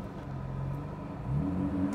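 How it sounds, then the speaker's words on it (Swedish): A BMW 3.0 CSL engine hums at a steady idle-like drone, then its pitch and loudness step up as it revs toward 4000 rpm near the end, heard from inside the car. "4000 varv. Jag drar bara till 4000 till att börja med."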